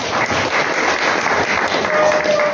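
Audience clapping for karaoke singers at a songs evening, a dense, steady crowd applause sustained throughout with no break.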